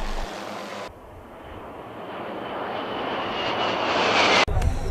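Jet engine roar from supersonic fighter jets flying at the Wonsan international air festival, a loud continuous rush that swells steadily as the aircraft approach, with a brief cut near the end.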